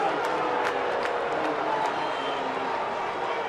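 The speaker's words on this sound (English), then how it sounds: "This huge crowd here on the last day, they're so fired up" A large baseball stadium crowd roars steadily after a home run on the last day of the season, a dense sustained cheer with scattered whoops and claps, loud and continuous throughout.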